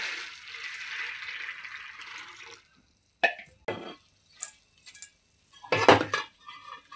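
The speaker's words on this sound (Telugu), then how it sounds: "ఇక నీళ్ళు పోసి కడుక్కోవాలి" Dishes clatter and a few sharp clinks ring out after a stretch of running water used to wash green chillies and onions, close and fairly quiet, with no talking.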